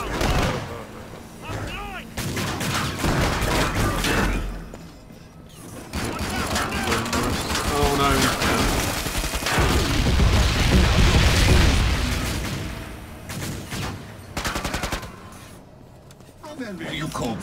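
Rapid bursts of gunfire in the video game Killing Floor 2, loud repeated shots and booms over game noise, with someone talking throughout.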